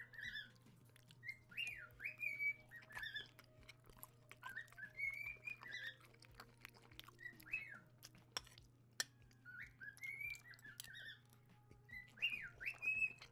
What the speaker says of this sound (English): the, the birds are so loud right now.